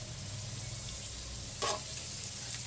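Butter and sisig sizzle steadily in a hot pan, a continuous crackling fry with one brief louder spatter, close and without talk.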